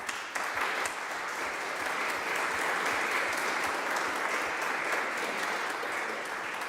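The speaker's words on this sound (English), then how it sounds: "let us thank the people who have made these concerts possible with a round of applause." A concert crowd claps steadily, a dense sustained round of applause from many hands, loud and even throughout.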